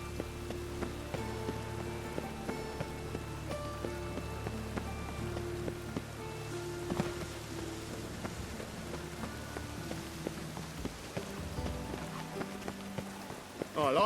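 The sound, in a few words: rain falling, from video game The Witcher 3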